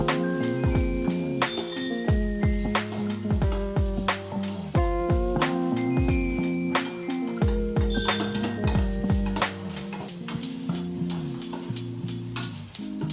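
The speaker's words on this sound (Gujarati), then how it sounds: "પછી આપણે નાખી દેવાનો ટોમેટો વધ્યો હોય એટલો. કમ્પ્લીટ મિક્સ કરી દેવાનું." Tomato stirred into Maggi noodles in a hot pan, with steady sizzling and frying under repeated clinks and scrapes of a utensil against the pan, close and busy throughout.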